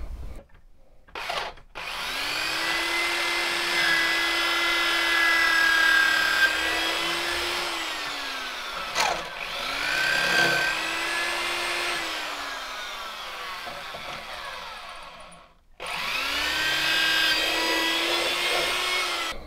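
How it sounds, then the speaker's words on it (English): A power drill bores through a Bowie knife's white handle and brass guard in a workshop, a steady high whine in three long passes separated by brief pauses and clicks, close and fairly loud. "So the next thing you should see me doing is drilling through."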